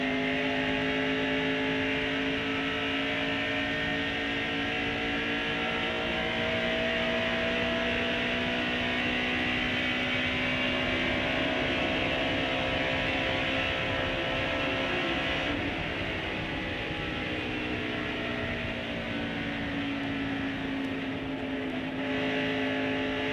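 Harry Gant's NASCAR Winston Cup stock car races at Michigan in 1989, its engine roaring close and steady from the bumper-mounted position, with the pitch shifting gently as other cars such as Jimmy Spencer's Pontiac run nearby.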